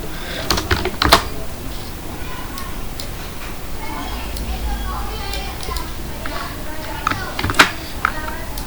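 Rapid clicking of a computer keyboard while entering Excel data, light irregular taps continuing throughout with a few louder keystrokes, under a person's speech.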